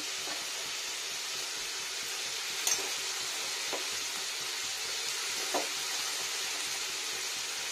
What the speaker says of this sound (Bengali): কষে নিই ভালো করে লবণ টবণ দিয়ে। এখানে দিয়ে নেবো মটরগুলো,